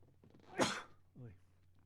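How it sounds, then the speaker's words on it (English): A single loud, sharp sneeze bursts out close to the microphone, followed by a brief trailing voiced exhale, in an otherwise quiet indoor room with a low steady hum. "just a second, I have to sneeze."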